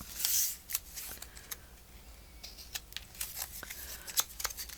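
Scissors snip paper while crafting a watercolor envelope journal: a quiet, close series of short, crisp cuts and rustles spaced irregularly, with no talking.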